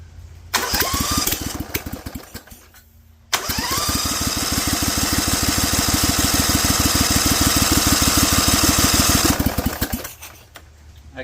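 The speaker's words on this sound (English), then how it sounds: "I'm going to up the idle and see if we can get it to punch up" Vanguard 16HP V-twin on a lawn tractor dragster sputters into life briefly, cuts out, then restarts and runs loud and steady with a rapid thumping idle for several seconds before shutting down.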